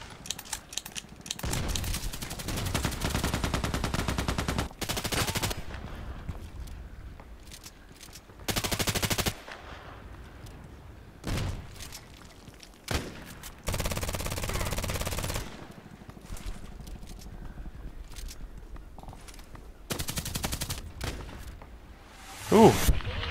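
Bursts of automatic gunfire in the online shooter Contract Wars, with several loud rapid volleys separated by quieter gaps, close and punchy.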